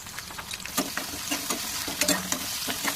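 Onions frying with salt in a pan for a Rayalaseema-style bottle gourd curry, steady close sizzle with stirring clicks and scrapes throughout, no voices.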